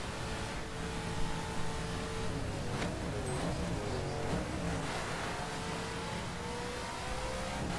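A car engine in the racing video game The Crew revs steadily at mid pitch, holding a continuous, fairly loud drone with slight rises and falls as the car speeds along a road.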